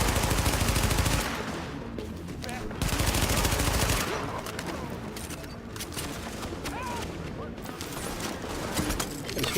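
Blind-fire gunfire in The Division video game, loud bursts of rapid automatic shots in sustained stretches with brief pauses between them, harsh and close.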